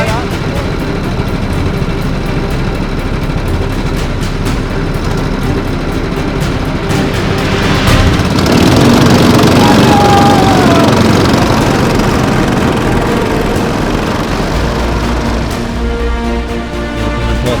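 A rally car engine at the start of a Rally Legend race in San Marino, a steady loud mid-pitched running drone that swells briefly partway through before settling back, with no speech over it.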